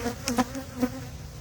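Honey bees at an open hive, a close buzzing drone with a few brief louder passes as individual bees fly near, alone without talk.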